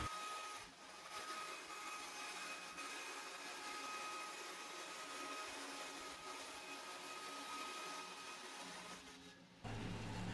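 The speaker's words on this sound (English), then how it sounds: "I actually went with plexiglass for this frame, and I'm cutting that out on a bandsaw." A bandsaw cutting plexiglass for a picture frame gives a faint, steady whine and hum that runs almost unbroken, with a short dip near the end.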